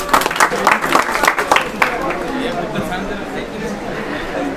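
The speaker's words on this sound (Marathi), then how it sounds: "टाळ्या होऊन जाऊ द्या मित्रांनो एकदा." Audience applause at a quiz event, with sharp, loud claps bursting at the start and then settling into a softer, steady patter of clapping mixed with crowd chatter.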